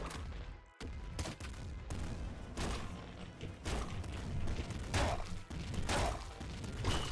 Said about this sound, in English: Is he firing extra bullets?